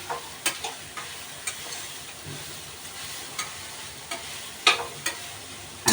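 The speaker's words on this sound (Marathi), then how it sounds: "ते तुपामध्ये चांगलं भाजून घेते असं" Steady frying sizzle with occasional sharp clicks and scraping taps as carrots roast in ghee in a pan, close and fairly quiet.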